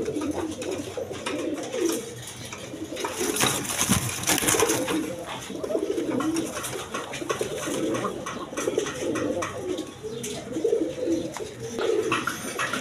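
A pair of sky-blue Rasgolla pigeons coo in steady, throaty repeated calls, close and moderately loud, with rustling movement and little else around them.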